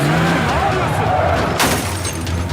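A car being crashed and wrecked during a driving scene: a rumbling engine, then a sharp, loud crunching impact about midway, with voices talking over it.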